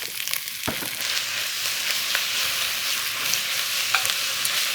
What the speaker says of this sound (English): I just threw these scallions in, which I'm already starting to burn a little